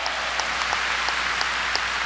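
A church congregation at a 1992 Sunday worship service applauds steadily, a dense, even wash of many hands clapping at moderate distance with no voices over it.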